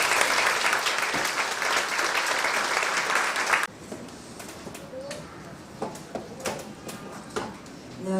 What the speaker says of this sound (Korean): 우리 따뜻한 또 뜨거운 박수 보냈으면 좋겠습니다